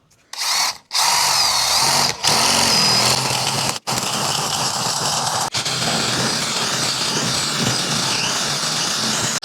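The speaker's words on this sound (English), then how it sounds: "get a drill with a 7/8 inch bit and drill right down the middle" A power drill with a 7/8 inch bit whines loudly and continuously as it bores into wood, with a brief start-stop at the beginning and short pauses in the grinding.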